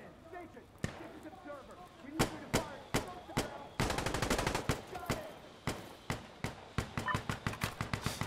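Gunfire in the war video game Sandstorm: sharp, loud shots, first single and spaced, then rapid bursts of automatic fire, fairly close.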